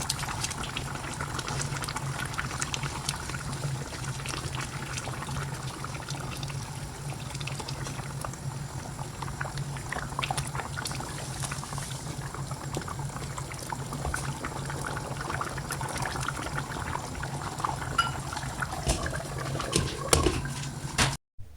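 Rohu fish heads with lentils cooking in a pot for muri ghonto. A steady bubbling simmer runs throughout, close and fairly loud, with a brief sharp clatter near the end and no voices.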